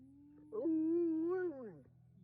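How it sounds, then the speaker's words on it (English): A dog's single drawn-out vocalization, a rising whiny yelp that wavers and falls off, close and fairly quiet, more howl than sharp bark, outdoors in the woods. "that's barking."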